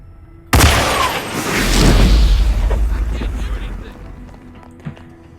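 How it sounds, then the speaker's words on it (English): A shot fire extinguisher bursts in a Hitman game level in Paris: a sudden loud blast followed by a long, rumbling roar with hissing spray that slowly fades over several seconds. "Shoot the fire extinguisher."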